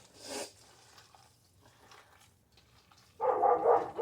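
A dog barks at squirrels outdoors during meatloaf preparation, one short yelp at the start followed later by a louder burst of barking near the end, with quiet background in between.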